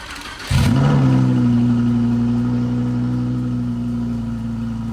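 A Lamborghini engine fires up with a loud bark and settles into a deep, steady, close rumble that fades slightly as it idles on.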